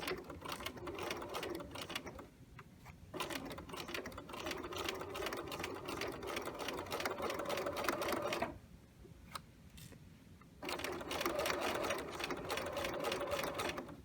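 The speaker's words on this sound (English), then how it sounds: "It's sewing through quite a few layers." Close by, a sewing machine edge stitches a fly zipper through several thick layers of fabric in long continuous runs with a fast steady beat, with two brief pauses between runs.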